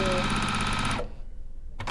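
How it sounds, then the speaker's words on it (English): A sewing machine runs steadily as quilt block pieces are stitched right sides together, its loud motor hum lasting about a second before stopping, followed by a quiet pause and a brief restart at the end. "Sewing the right sides together."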